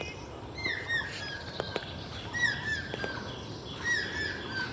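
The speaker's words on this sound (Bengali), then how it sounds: "সুন্দর আওয়াজ ভোরবেলা পাখির আওয়াজ" Several birds chirp and whistle at dawn in a casuarina grove near Bagda beach, in short repeated phrases over a steady background hiss, some calls a bit closer, with a couple of sharp clicks.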